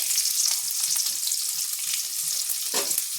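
Chopped onion fries in hot oil with whole spices, giving a steady, close sizzle with soft stirring scrapes throughout and no voices.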